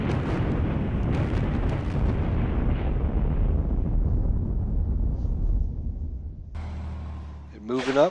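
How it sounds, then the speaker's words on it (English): An artillery bombardment in a Battles of Normandy strategy game set in Operation Goodwood, 1944, sends a dense, continuous rumble of explosions. The barrage fades out and then gives way to brief clicks and other game sounds. "They're going to use their artillery to bomb that shit out of us."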